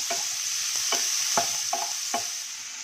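Onion and tomato sauté in a pan, a bright continuous sizzle broken by about six sharp, evenly spaced stirring scrapes, close and clear with no talking.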